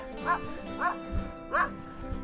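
A dog barks a few times at a distance, short yelps spaced through the stretch, heard along a hilly road during a bikepacking ride on the Cebu Divide in the Philippines, with faint bike and outdoor noise beneath.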